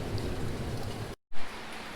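Steady rain pours down in a dense, even hiss, broken by a brief total dropout and a short loud swell before the downpour carries on.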